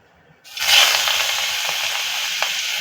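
Ground prawn head paste with ginger hits a hot wok and bursts into loud sizzling frying, which then settles into a steady hiss with a few faint stirring clinks.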